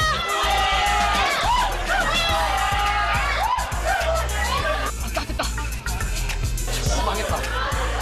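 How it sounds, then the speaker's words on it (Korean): A large crowd bursts into loud cheering mixed with groans and excited chatter at the moment a university course-registration countdown hits zero, the roar of voices sustained and dense throughout. "함성과 탄식이 엇갈리는 순간"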